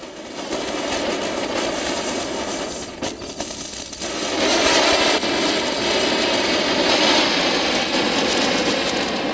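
Diwali firework going off at night, a steady loud roaring whoosh with crackling hiss that swells midway and continues unbroken, heard close with no voices.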